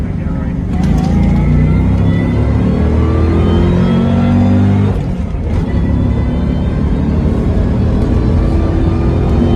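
Saleen sports car rated at 360 horsepower accelerating hard, a loud continuous engine roar with rising harmonic sweeps as it pulls through the gears, one brief dip mid-run, with people talking over it.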